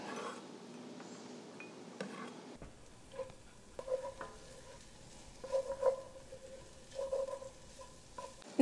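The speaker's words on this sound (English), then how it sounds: "Now that our garlic has sauteed" Garlic sautés in a pan with a soft, continuous sizzle, while a utensil stirs and scrapes against the pan in irregular, close clinks and knocks.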